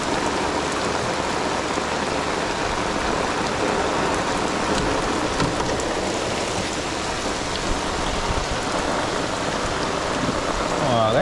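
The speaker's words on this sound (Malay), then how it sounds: "Hujan pun jalan" Steady rain pours down in a dense, unbroken hiss of drops striking surfaces, loud and continuous throughout with no pauses.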